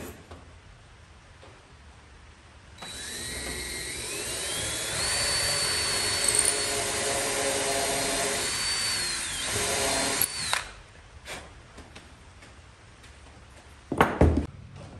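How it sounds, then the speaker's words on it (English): A power drill whines up and runs for several seconds boring holes into wood for a towel rack, pitch shifting under load, then stops; a few knocks and clatters follow. "I'm going to go ahead and drill these 12 different holes"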